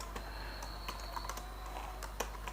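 Steady, quiet clatter of keys on a computer keyboard while code is entered, with light clicks tapping along evenly and no voices over them.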